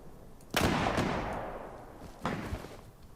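Two loud gunshots in Mount & Blade: Warband with the Between Empires mod, each a sharp crack trailing into a long rolling echo, the second following about two seconds after the first.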